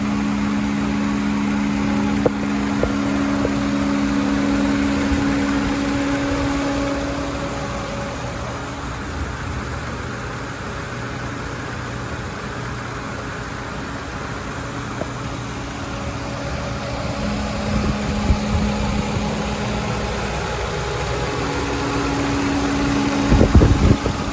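A Subaru Outback's boxer engine idles in a low, quiet, steady hum with a faint tonal drone that fades and returns, ending in a short louder clatter.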